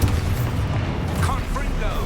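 An Expulso blasting spell from a video game bursts as a dense, rumbling explosion that roars continuously and loudly for a couple of seconds without a clear break.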